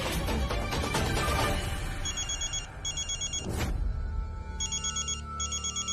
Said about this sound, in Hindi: अम्मा देखिए, जया का फोन होगा।